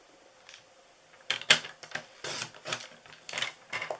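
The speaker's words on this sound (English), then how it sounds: "So I'm going to cut this with my trimmer" A paper trimmer cuts card stock close by. After a quiet start, a series of short scraping slides and sharp clicks follows as the blade is drawn across the sheet several times.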